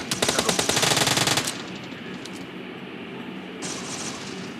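Rapid automatic gunfire from PUBG Mobile rattles loudly in a dense burst for about a second and a half. Quieter game ambience follows, with a short crackle later on.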